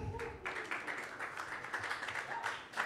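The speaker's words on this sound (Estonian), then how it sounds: "Teie aplausi saatel Hanna Taaramäe!" Audience applause at a stage presentation for the Tartu Rattamaraton gravel distance, steady dense clapping from a seated crowd, moderately distant and continuous for a few seconds.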